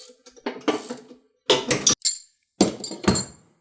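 A wrench ratchets on the deck spindle nut of a Craftsman T110 42-inch riding lawnmower, three close bursts of rapid metallic clicking separated by short pauses.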